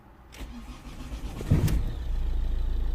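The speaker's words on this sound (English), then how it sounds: "now what we're gonna do is we're gonna go back, start the engine" Ford Mondeo car engine with a fault cranking briefly and firing up, then settling into a steady close idle with a regular low pulsing rumble.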